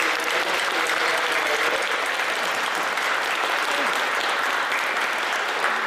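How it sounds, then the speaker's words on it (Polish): Applause from an audience at a concert in Krzepice, Poland: dense, steady clapping of a large crowd, loud and continuous throughout with no voices standing out. "Duże brawa, bo najgorsze."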